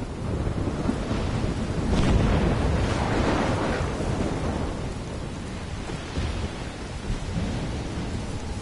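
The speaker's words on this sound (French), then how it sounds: "Putain, mais c'est la tempête dans le jeu. Il y a de l'orage là." Thunderstorm in the game Life is Strange, heavy rain pouring steadily while thunder rumbles and swells in the middle, a loud, dense and continuous wash of storm noise with no talking.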